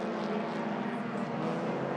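A touring race car engine roars at steady high revs on a circuit during a Malaysia Championship Series race, a continuous close droning tone with no break.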